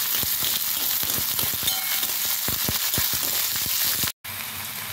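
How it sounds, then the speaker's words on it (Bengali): Chopped onions with cinnamon, cumin and a bay leaf fry in a pan, giving a steady loud sizzle broken by crackles and pops, with a brief cut near the end and no talking. "পেঁয়াজগুলোকে একটু ভেজে নেব।"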